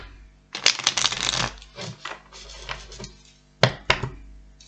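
Tarot cards being shuffled up close in several quick riffling bursts, with short pauses between them.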